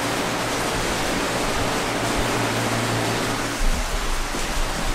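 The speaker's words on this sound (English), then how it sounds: "It is blowing, there we go, blowing really, really well off of the heater." A heater fan in a greenhouse blows air in a broad, steady rushing roar, loud and constant with a low hum underneath, no voices.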